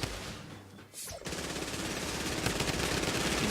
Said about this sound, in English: You can hear gunfire. Someone has the compact SMG.